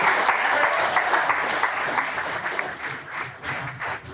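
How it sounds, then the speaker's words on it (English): An audience at a PUMA panel during Boston Marathon weekend gives a round of applause for PUMA employees, a steady wash of clapping that thins out toward the end with some voices underneath. "let's give a round of applause to the PUMA employees that are putting this on their feet"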